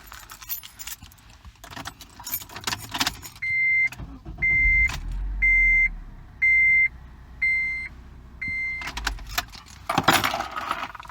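A Honda Element with a newly installed starter fires up and settles into a low idle rumble, while a steady series of six evenly spaced chime beeps sounds over it and keys jangle at the start and end.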